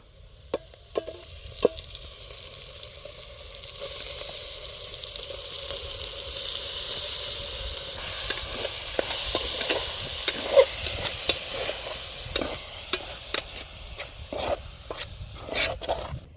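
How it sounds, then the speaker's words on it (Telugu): Marinated meal maker soya chunks frying in a pan with onion paste, a steady close sizzle running throughout while a spoon scrapes and stirs in repeated sharp knocks and rubs. "ఇప్పుడు కొంచెం మంట పెట్టుకొని మిల్ మేకర్ని బాగా ఏగనివ్వాలి"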